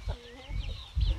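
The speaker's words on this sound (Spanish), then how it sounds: "la gallina se quiere comer el maíz" A hen clucks while pecking at corn, giving a few short throaty clucks and squawks in quick bursts, close by, with no talk.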